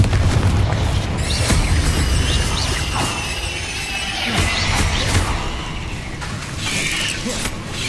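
A Confringo spell explosion in the video game Hogwarts Legacy: a loud, booming blast with crackling debris over a dense, continuous bed of game effects and rumble.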